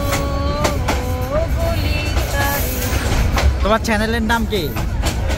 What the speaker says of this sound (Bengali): আরেকটা ট্রেন যাচ্ছে তো পাশাপাশি।